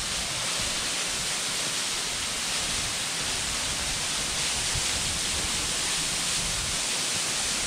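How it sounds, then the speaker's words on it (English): Covell Creek Falls in Washington roars as a steady, broad rush of falling water, constant and fairly close with no voices. "Here's Covell Creek Falls."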